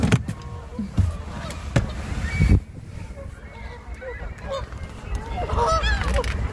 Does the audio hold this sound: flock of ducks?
yes